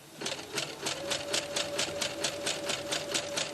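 A sewing machine stitches fabric for a circle skirt in a fast, even run of close mechanical pulses with a steady motor whine underneath. It keeps a constant pace throughout, and no one speaks.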